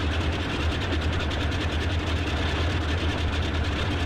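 The twin radial engines of a Boeing 247D airliner idle in a flight simulator game, a steady low drone with a fast, even pulsing throb held at a constant level throughout.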